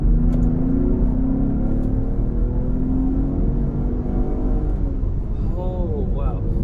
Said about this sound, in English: So let's see the acceleration now.